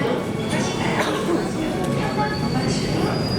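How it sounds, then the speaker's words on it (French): Seoul metro train running, a steady broadband rumble with faint high squeals, heard from inside or beside the train with voices talking over it. "Le métro, ouais, bon. Métro classique."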